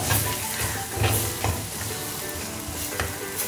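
Squid masala sizzles and fries in a pan after white vinegar goes in, a dense steady crackle broken by several sharp stirring scrapes, loud and close, with no voices.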